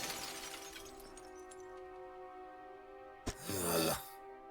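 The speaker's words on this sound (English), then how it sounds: "His face shatters and falls to the ground." A collector's face shattering like glass and crumbling to the ground in the fishing game Dredge: a sharp crack, then about a second of bright breaking and falling debris over a steady droning ambient tone, with no one talking.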